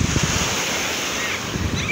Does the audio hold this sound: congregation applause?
no